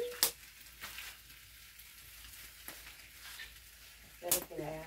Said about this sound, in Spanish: cocinando huevos